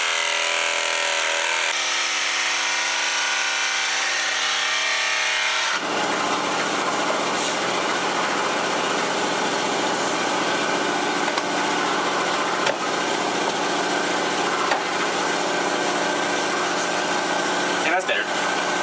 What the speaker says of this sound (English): So I'll take the sander and blend that in